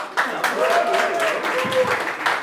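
Audience applause at a coding bootcamp demo day in Rio de Janeiro, a continuous wash of clapping from a crowd with voices talking and calling over it.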